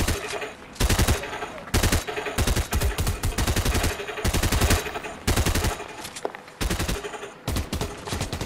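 Rapid bursts of gunfire from a sniper fight in the video game Fortnite, loud and near, with repeated shots clustered across the clip and brief gaps between volleys, plus faint voices under the shooting.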